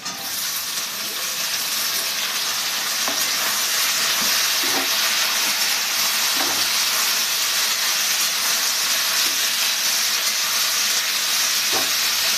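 Drumsticks (moringa pods) dropped into a pan of frying potatoes in mustard-style cooking, a loud continuous sizzle and hiss with occasional pops and crackles throughout, no voices.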